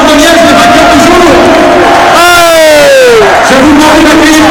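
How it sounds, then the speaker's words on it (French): Stadium supporters of Standard de Liège cheer and roar loudly, a sustained dense crowd din with a voice carrying through over it. "pendant que vous applaudissez encore les joueurs du Standard de Liège, les vainqueurs du jour"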